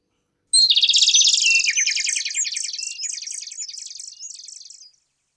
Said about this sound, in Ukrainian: А як співають пташки?